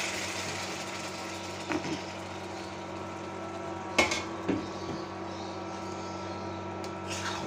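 Marinated meat goes into a cooking pot of almost-fried onions amid a steady background hum, with a few sharp metallic clinks and scrapes of utensils against the pot.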